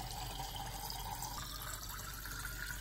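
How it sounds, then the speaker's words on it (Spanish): Water pours steadily into drinking glasses at home, a continuous close splashing rush that stays even throughout, with no voices. "les ando llenando los vasos del agua porque ha hecho mucho calor"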